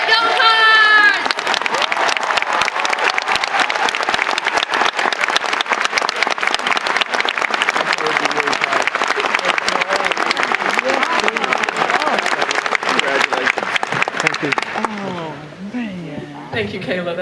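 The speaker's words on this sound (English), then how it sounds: "give yourselves another round of applause for making it to the KFC Yum Center" Loud, sustained applause and cheering from a large crowd filling an arena at a university commencement ceremony, continuous for many seconds before tapering off as a voice begins speaking near the end.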